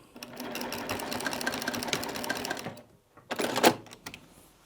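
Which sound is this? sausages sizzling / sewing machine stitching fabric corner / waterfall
sewing machine stitching fabric corner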